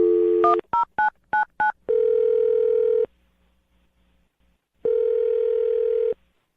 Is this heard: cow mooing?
no